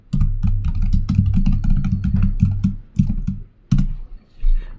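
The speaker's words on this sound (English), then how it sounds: "at the prompt, type git config -- global user name, and then you can type in your username." Computer keyboard typed at a prompt to enter a git config command, a quick run of close, crisp key clicks with brief pauses near the end.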